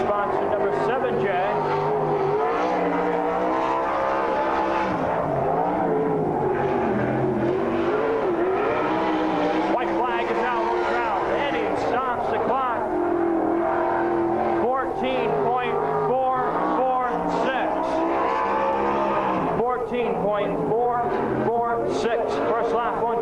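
Jeremy Trout's number 7J race car, sponsored by Acadia Mortgage Services, lapping an oval on a 2001 race night, its engine note rising and falling continuously, loud, with an announcer talking over it.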